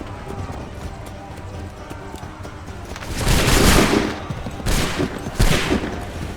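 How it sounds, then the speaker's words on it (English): Musket volleys crack out in a battle in the video game Assassin's Creed III, one big rolling burst followed by two shorter ones over clattering hooves and background battle noise. "Open fire."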